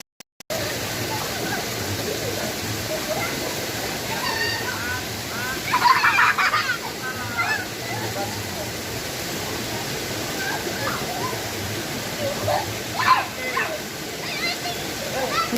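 A jungle waterfall and river rush in a constant, full roar of falling water, with a few brief splashes and faint voices mixed into the steady wash.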